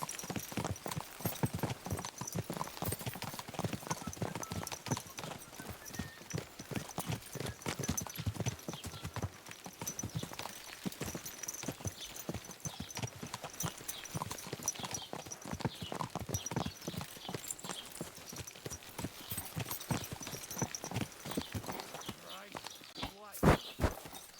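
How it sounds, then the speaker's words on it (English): Horse hooves clip-clop at a steady walking rhythm in the video game Kingdom Come: Deliverance II, close and continuous, with people talking at times over the footsteps. "Watch out with that horse!"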